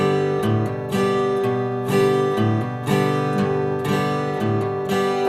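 Stiff downstroke strums on a guitar, each string sounding almost separately, repeating about every second in a steady rhythm, close and fairly loud with ringing chords between strokes and no talking.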